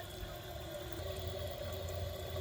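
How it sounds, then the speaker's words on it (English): A 1998 Western Pottery Clinton toilet gives a short flush, a steady rush of water that runs evenly and fairly faint throughout, with no voices over it. "That flush does not look like it would get the job done."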